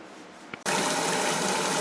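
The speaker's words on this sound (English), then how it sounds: "I just hooked it up to the faucet, let in all the hot water and Dawn run through it" Hot water and dish soap gush from a kitchen faucet through a braided fuel line hose, beginning abruptly after a quiet moment and then rushing as a steady, close stream.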